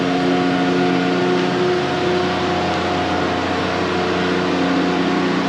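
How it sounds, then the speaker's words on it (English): A Kubota Low Boy Pro GL14000 generator runs under a 110 load, a loud constant drone with a steady tonal hum, heard without pause from a short distance. "So I'm going to step back from the generator."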